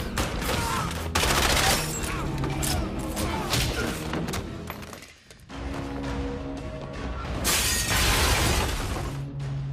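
Glass shattering in a film scene, heavy crashing and breaking bursts layered over dense, loud action sound, with a brief dip mid-way before another long burst of destruction.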